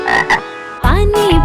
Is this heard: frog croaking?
yes